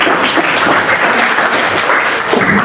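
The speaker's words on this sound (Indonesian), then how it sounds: "Tepuk tangan dulu untuk kalian." Audience members in a classroom or training session clap together in a continuous, even burst of applause, loud and close, with no talk over it.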